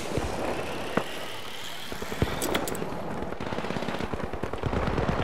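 Rapid automatic gunfire crackles in the video game The Finals open beta, a quick train of sharp shots after a couple of isolated pops, fairly faint and steady over the game's background noise.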